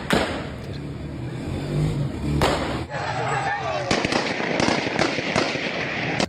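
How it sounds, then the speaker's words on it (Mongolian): Sharp gunshot-like cracks ring out along a city street in Herat, Afghanistan, a few sudden bangs over a dense roar of crowd noise and traffic. "Gunshots can be heard in video from the Afghan."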